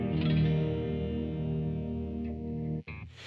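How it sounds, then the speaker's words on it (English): Gibson Firebird X electric guitar played through a reverb effect, sustained chord ringing with a chorus-like shimmer and a lingering wash of echo, then a brief cut and a muted scratch at the end. "we got this reverb here"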